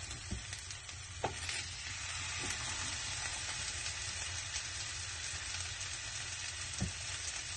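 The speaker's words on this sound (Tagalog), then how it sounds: "Lutuin ang papabrownin natin yan. Palalabasin natin yung mantika." Pork browning in a frying pan as its fat renders, a steady close sizzle and crackle throughout with a few sharper pops, no voices.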